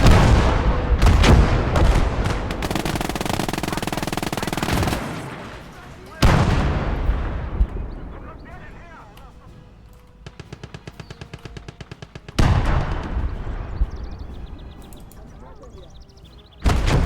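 Artillery and mortar fire from the World War II strategy game Legion of the Damned: repeated loud booming blasts and rattling gunfire bursts, with dense rapid volleys in the middle, under a voice talking over the battle.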